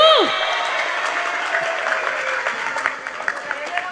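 Audience applause at a lively Indonesian religious talk show, loud broadband clapping sustained for four seconds with music tones and voices mixed underneath.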